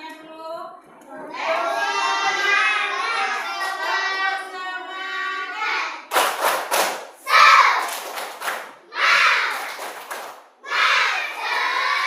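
A class of schoolchildren does a tepuk semangat spirit clap: several seconds of loud unison chanting, then sharp rhythmic bursts of group hand claps.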